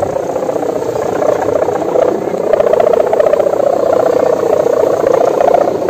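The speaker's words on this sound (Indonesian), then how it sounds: "Angin gila." A loud, constant roar of strong wind buffeting the microphone while flying a kite in a storm, a steady rumbling rush that swells slightly midway and never lets up.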